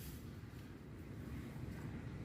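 Wind buffets a wild campsite in Scotland after a night of rain, a low steady roar with gusty rumble on the microphone and no voices.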